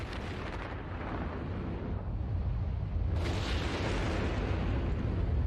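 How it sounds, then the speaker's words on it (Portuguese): Documentary sound effect for explosions of solar particles, a continuous deep rumbling roar with a brief dip in the middle, then a renewed, brighter blast of dense crackling that carries on to the end. "Várias explosões de partículas vão bombardear o campo magnético da Terra."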